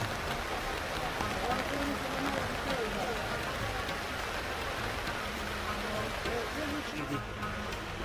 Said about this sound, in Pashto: تاسو شاید د باران د څاڅکو یا د اوبو کوم شړکارې چې دی هغه په خپلو غوږونو باندې اورئ